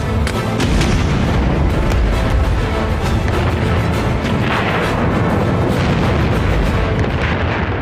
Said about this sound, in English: The Bismarck and Hood engage in heavy gunfire.